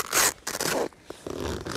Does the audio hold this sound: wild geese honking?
no